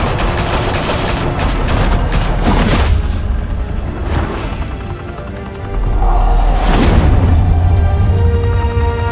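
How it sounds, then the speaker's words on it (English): Heavy gunfire and booming blasts from a firefight in the Batman: The Telltale Series video game, with loud sustained volleys that dip briefly, then swell again with deep rumbling impacts. "Open fire!"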